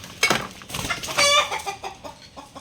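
A black Minorca hen in a backyard clucks close by in a short run of throaty, uneven calls, with a brief rising squawk near the middle and quieter clucks trailing off.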